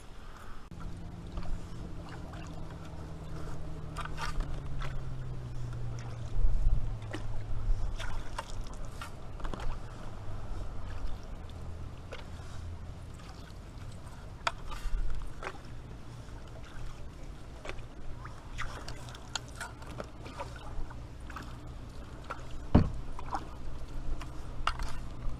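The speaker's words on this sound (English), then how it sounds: "so without further ado, let's get paddling, hey?" A canoe or kayak paddles on water with soft, irregular splashes and trickles over a low boat hum, faint and close, no talk heard.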